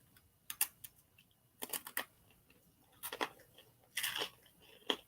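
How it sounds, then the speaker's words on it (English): Someone crunches a pretzel up close, with several separate crisp, crackly bites that come in short irregular bursts over a few seconds. No one talks. "Sorry, crunching a pretzel."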